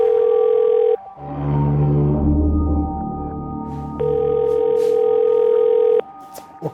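Phone call ringing out unanswered, set in a Crime Patrol thriller: a steady electronic ringback tone pulses in two long bursts with a gap between them, while a low droning score swells beneath.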